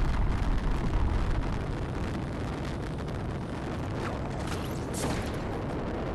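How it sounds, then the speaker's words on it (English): A rocket launch in the video game Fortnite rumbles as a dense, loud, continuous roar that is strongest at first and then settles into a sustained broadband thunder, with no voices. "Bloody rocket going off"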